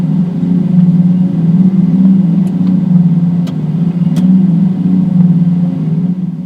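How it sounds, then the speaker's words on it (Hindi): A steady low electronic pedestrian warning hum drones continuously from a nearby Tata Curvv EV moving at low speed, pulsing gently in loudness, with faint clicks in the background. "गाड़ी जब 20 की रफ्तार तक होती है ना, तो वहाँ पर एक बढ़िया सी हमिंग की आवाज़ आती है"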